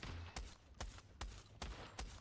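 Gunfire in the VR shooter Pavlov during a search-and-destroy match on the Sand map: about six evenly spaced shots crack out at a steady rhythm, fairly faint, over a constant background hum.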